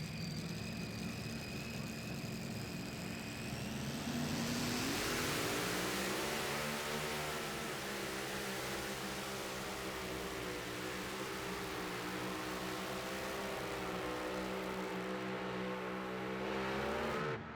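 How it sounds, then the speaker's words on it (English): Methanol Madness, a pulling tractor at a Mini Rods tractor pull in Farley, Iowa, roars up from a steady drone into a loud, sustained high-revving engine wail that holds for many seconds before cutting off. "Here comes Raymond Shepard and the tractor called Methanol Madness."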